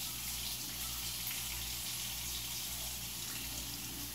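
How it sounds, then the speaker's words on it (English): Warm water runs steadily from a kitchen faucet to rinse a hot cast iron pan, a continuous even rushing hiss with no breaks and no talking. "always make sure you turn the water on first and make your water a little warm"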